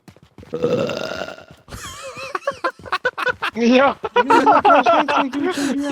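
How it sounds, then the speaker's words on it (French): A long, loud, rumbling burp opens the sequence, followed by excited chatter and laughter from several voices during a livestreamed game. "il a roté, mon gars!"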